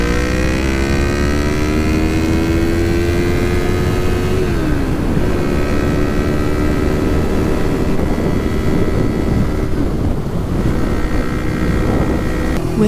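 A loud, droning motorcycle engine with a new aftermarket exhaust at steady freeway speed in third gear, with a shifting whine as the revs change, heavy road and wind roar beneath.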